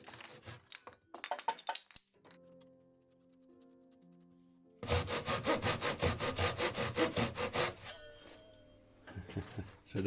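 A homemade band saw cuts through wood in a fast rhythmic rasp, with a quieter idle motor hum between cuts and a few brief clattering noises.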